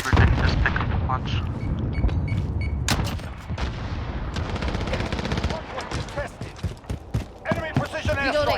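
Booming airstrike explosions and gunfire from a Call of Duty multiplayer match, dense and loud with repeated blasts and rapid shots, under game voice callouts and players chatting.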